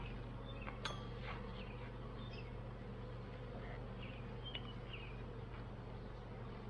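Honeybees buzz around a small urban beehive opened for inspection, a faint, continuous droning hum with a few individual bees passing close, with no talk.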